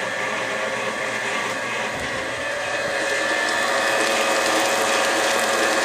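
An electric mixer whirs steadily and close, beating cookie dough as flour mixes in, a continuous mechanical buzz that grows slightly louder partway through.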